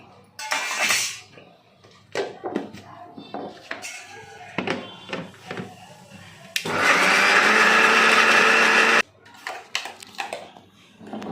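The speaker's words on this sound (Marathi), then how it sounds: "आता हे आपण मिक्सरमधून लावून घेऊया।" An electric mixer grinder whirs loudly for about two seconds as it grinds a thick paste for veg Maratha gravy, with clicks and handling knocks of the jar before and after, and someone talking.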